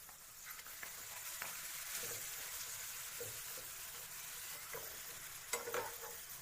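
A papad fries in hot oil in a pan, giving a quiet, even sizzle with a few soft crackles and a brief louder burst of bubbling near the end.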